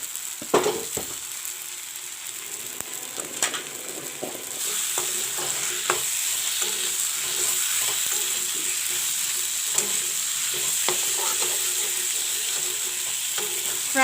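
Cut potatoes fry with brown masala for a bhindi-potato curry, a continuous close sizzle broken by repeated scraping and stirring clatters of a spoon against the pan, with no voices.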